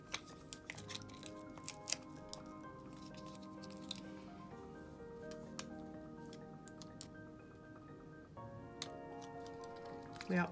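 Scissors snip through paper strips with a series of small crisp cuts spread across the stretch, close and fairly quiet, with faint handling noise between them.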